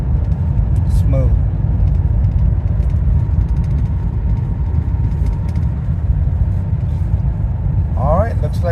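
A 2017 Audi Q7 cruising at 70 mph after a transmission replacement, with a steady, dense low road and engine rumble filling the cabin, a few brief clicks and squeaks on top.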